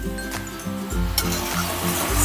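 Chicken with cabbage being stirred in a pan, a steady close sizzle with repeated scraping strokes of a utensil against the pan in an uneven rhythm.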